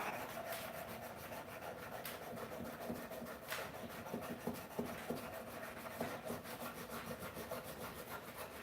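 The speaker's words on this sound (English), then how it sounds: "If you have to spend any time sanding metal, then you definitely want Rhino Wet." Metal flat bar stock sanded by hand with Rhino Wet Indasa sandpaper, a steady rhythmic rasping of back-and-forth strokes, close and moderately quiet, with a few sharper scrapes and knocks along the way.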